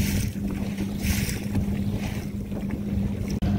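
An aluminum Xpress H18 Pro bass boat with a 150 outboard runs across choppy water. The motor drones steadily throughout under wind buffeting on the microphone, with a brief dropout near the end.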